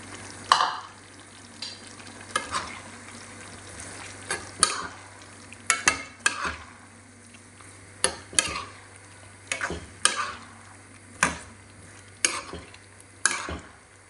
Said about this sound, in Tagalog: ilagay na rin natin yung pinrito natin patatas at saka carrots